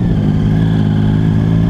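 A motorbike engine drones steadily and close while riding slowly through a side street, the clutch held half-engaged to feed the power gently, with no speech over it.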